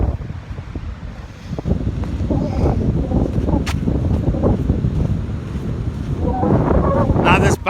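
Ocean waves breaking along a coastline, with seabirds diving into the surf, heard as a steady rushing wash with gusty wind buffeting the microphone throughout.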